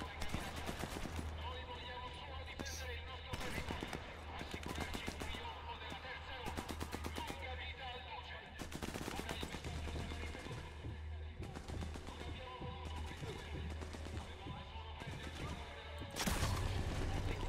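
Gunfire from a firefight between partisans and enemy soldiers in the video game Sniper Elite 4, dense rattling shots and bursts running continuously under a voice talking, with a loud burst near the end.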